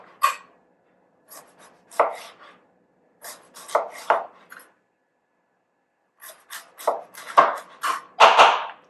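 A kitchen knife slices through fennel on a cutting board in several bursts of crisp, close chopping strokes, grouped in short runs separated by pauses.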